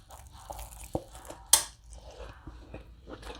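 A toasted brioche bun grilled chicken sandwich is bitten with one sharp, loud crunch, followed by softer chewing and small crackles close to the mic, with a faint earlier bite.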